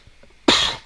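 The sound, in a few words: cough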